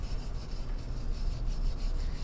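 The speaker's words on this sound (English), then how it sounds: "take a wire brush and brush off any loose rust" A wire brush scrubbing loose rust off a brake rotor on a Mk1 VW Tiguan, a continuous close rasping scrape with a rough back-and-forth rhythm and no talking.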